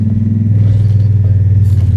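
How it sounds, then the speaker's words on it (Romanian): A motorcycle engine runs steadily and close up on a mountain ride along the Durmitor Ring in Montenegro, a low, even throb with some rattle and no voices. "Merge foarte bine motorul."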